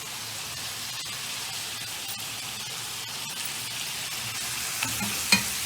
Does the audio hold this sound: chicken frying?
yes